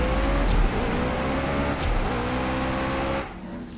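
Porsche engine in the CSR 2 racing game, revving through gear changes with rising tones and short dips between shifts, fairly quiet and steady with no talk.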